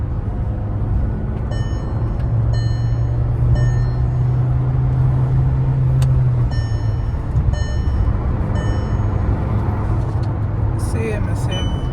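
Skoda Slavia car engine running during a test drive, a steady loud interior rumble with a rising hum, road noise and faint high electronic chimes throughout.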